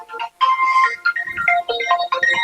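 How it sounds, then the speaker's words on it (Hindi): A phone plays a bright melodic ringtone, close and loud, cycling through a quick tune of electronic notes for the full two and a half seconds with no one speaking over it. "यो किसका फोन आ गया?"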